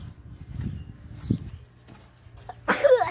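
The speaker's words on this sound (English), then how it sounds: "I'm gonna sneeze soon." A single sharp, close sneeze bursts out near the end, following low rumbling and faint shuffling in a workshop during a trampoline build.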